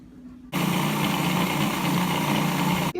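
A food processor pulses a limoncello tart crust, its loud steady motor whir starting abruptly after a quiet moment and running close for over two seconds before cutting off.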